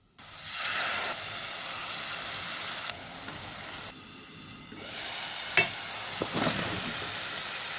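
Onions sizzle steadily in hot oil with garlic for a Bangladeshi curry, a continuous crackling fry with a few louder bursts and scrapes from stirring near the end.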